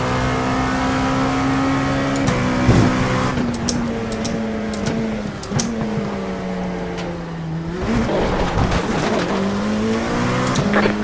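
Race cars in an IMSA sim racing game at Laguna Seca roar steadily at close range, engine notes rising and falling as faster cars close in, with brief bursts of tire squeal and revving throughout.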